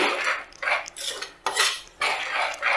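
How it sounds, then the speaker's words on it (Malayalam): A tomato mixture for vendakka ulli curry stirred in a pan, with loud, close, sweeping scrapes of a spoon across the metal, coming in repeated long strokes about every half second. "ഇനി ഇതൊന്ന് ഇളക്കാം ഈ തക്കാളിയുടെ പച്ചമണം ഒന്ന് മാറട്ടെ"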